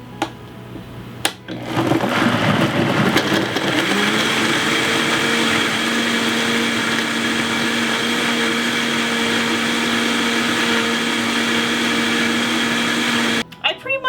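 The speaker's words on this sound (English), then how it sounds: "Run my Vitamix until I can no longer hear any like big bits of date hitting the blade" A Vitamix blender processes oats and dates for oat milk, starting with a click and a rising whir, then holding a loud, steady motor drone for about ten seconds before cutting off abruptly.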